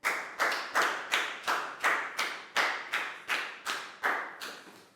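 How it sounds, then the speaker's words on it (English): Classroom clapping during a Year 4 English lesson, about a dozen slow, evenly spaced claps close by, each sharp and ringing briefly, with no talking. "Big round of applause for Bangpon, guys."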